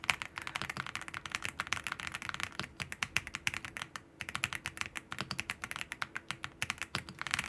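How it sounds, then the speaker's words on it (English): Rapid, continuous clacking of keys on a computer keyboard, dense and rhythmic with one brief pause, close but fairly quiet, with no voices. "I am typing so fast and perfectly right now."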